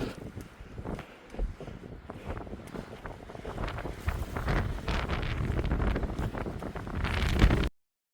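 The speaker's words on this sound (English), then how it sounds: "Just as windy over here." Strong wind in the White Mountains on the Appalachian Trail buffets the microphone in loud, irregular gusts and rumbles, building in intensity toward the end before the sound abruptly stops.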